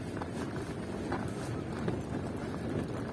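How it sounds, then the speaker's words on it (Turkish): Steady gusting wind roars and buffets the microphone, a constant broadband rush with no voices. "Başkan çok rüzgar var dışarıda."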